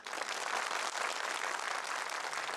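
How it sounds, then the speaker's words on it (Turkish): A studio audience at a Quran recitation competition applauds. The clapping is dense and steady, fairly close and moderately loud, and carries on evenly without talk. "Ve alkışlıyoruz."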